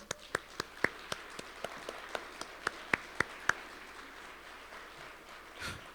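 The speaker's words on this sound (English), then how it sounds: "I have one more round of applause for them." A thin round of scattered handclaps from a small audience at a winter term graduation ceremony: about a dozen separate, crisp claps spread over several seconds, then fading to quiet room tone.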